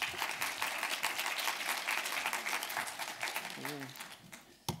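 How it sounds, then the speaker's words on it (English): An audience applauds after a talk at a scientific session on parasites and wildlife disease, a crowded burst of clapping that fades slightly near the end, with a voice briefly sounding underneath. "Applause."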